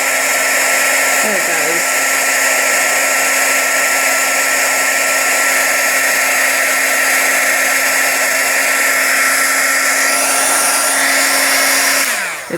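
Heat tool drones steadily for about twelve seconds, embossing powder on stamped paper for a junk journal, then cuts off at the end; a brief remark is spoken near the start.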